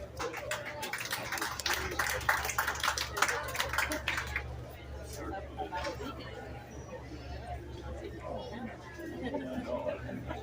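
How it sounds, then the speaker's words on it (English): Applause and crowd chatter in the stands at a county fair 4-H and FFA swine show; clapping fills the first few seconds, then fades into murmuring voices over a steady low hum. "Let's give him a big round of applause as he exits."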